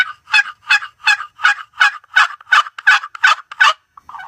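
Rhythmic rasping yelps come from a wooden box turkey call stroked with a striker, about a dozen loud, evenly spaced strokes up close, alone.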